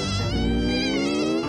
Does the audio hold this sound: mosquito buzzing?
yes